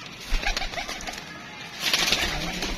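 Pigeons coo softly nearby amid rustling and a flutter of wings, with no voices.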